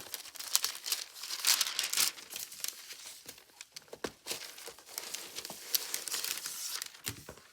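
Wrapping paper crinkles and tears around a planner box as it is unwrapped, a continuous close rustling with bursts of louder crumpling and ripping and no voices.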